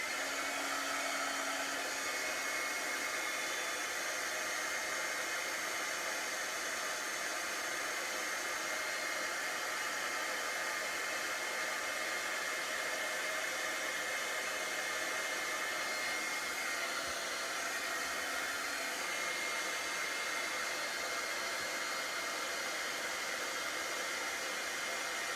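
A heat tool blows steadily on excess cardstock at a paper crafting table, a loud, even whooshing hiss that runs unbroken and alone for the whole stretch.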